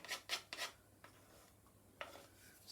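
A wooden spoon rubs and scrapes cupcake batter from the side of a mixing bowl in a few quick, close strokes, followed by quieter scrapes and a brief later swipe.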